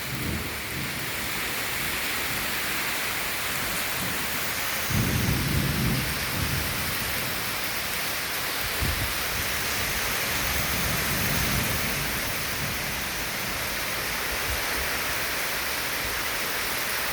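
Heavy rain hisses steadily through a Good Friday storm, with a deep rolling rumble of thunder swelling around the middle and fainter grumbles later, all under the constant downpour.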